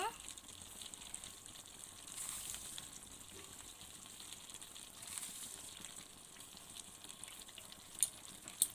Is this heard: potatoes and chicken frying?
yes